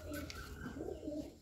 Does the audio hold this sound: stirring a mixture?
no